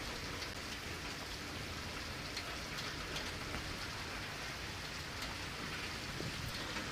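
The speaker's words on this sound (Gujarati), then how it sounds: "બાબરા શહેરમાં આજે ત્રીજા દિવસે વરસાદ યથાવત છે" Rain pours down in Babra town on a third straight day, a continuous, uniform wash of drops striking surfaces, fairly soft and steady throughout.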